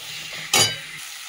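Potato and kohlrabi sautéing in a fried spice paste, a faint low sizzle interrupted by one brief loud scrape or clatter of a spoon in the pan.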